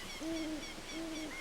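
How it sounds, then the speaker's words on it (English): Two soft, repeated owl-like hoots ring out evenly in Hyrule Field in the video game Zelda: Ocarina of Time, moderately quiet over a steady ambient hiss with no voices. "non-stop birds. And those birds are loud."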